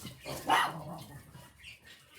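A single short dog bark, fairly faint and somewhat distant, rising briefly above a quiet background.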